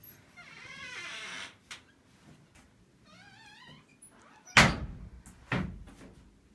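An old wooden door at the Chesser Homestead in Okefenokee swings open with faint creaking, then lands a sharp, loud knock or thump, followed by a softer second bump in an otherwise quiet room.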